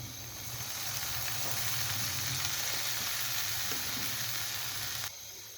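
Finely chopped green chillies fry in a pan with a soft, continuous sizzle at moderate level that cuts off abruptly near the end, with no talking.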